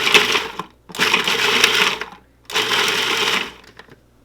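A blender pulses garlic and root vegetables in three loud, grinding bursts of about a second each, separated by brief silences, with no talk.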